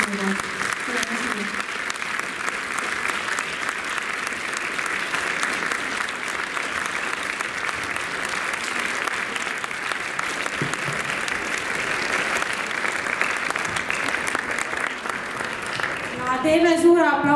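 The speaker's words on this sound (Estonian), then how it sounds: "Teeme suure aplausi veel meie osatäitjatele" An audience applauds dance performers at a children's dance club show, a dense, even roar of clapping that holds steady for the whole stretch, with voices breaking in briefly at the start and end.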